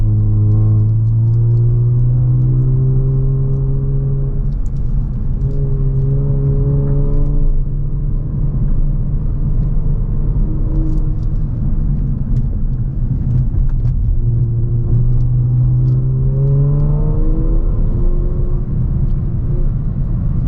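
Kia Stinger GT2 fitted with a Borla active valve exhaust, driving up through canyons, engine droning loud and steady with rising and falling pitch as it pulls through the gears, continuous throughout with no talking.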